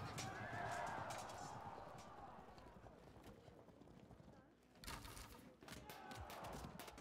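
Horse archers galloping in the Field of Glory II strategy game, their hooves drumming in a steady, dense clatter that runs throughout with a brief dip near the middle, under a background of battle noise.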